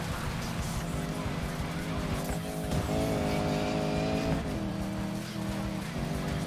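Racing car engine in Need for Speed Payback, a steady loud drone with shifting revs and occasional tire squeal, continuous through the whole stretch with no pauses.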